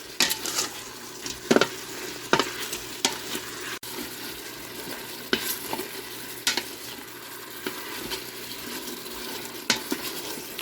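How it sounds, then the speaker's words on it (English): Garlic sizzles and fries in the hot inner pot of an Instant Pot while a spoon stirs it, with a steady close frying hiss broken by sharp scrapes and taps of the utensil against the pot. "Add your garlic, and stir to cook for about a minute."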